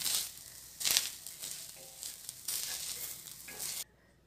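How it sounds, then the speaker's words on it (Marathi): Grated coconut is dry-roasted and stirred in a pan, giving a soft, crackly sizzle with scraping strokes, fairly quiet and close, ending abruptly without any voices. "आपण तो काढून घेऊ आणि खोबरं भाजून घेऊया."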